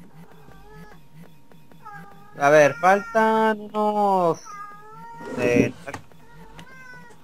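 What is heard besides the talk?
cat meowing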